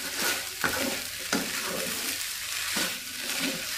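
Nasi goreng with pete, a spicy fried rice, sizzles steadily in a pan while a spatula stirs it, giving a few sharp scraping strikes over the constant close frying hiss, with no talking.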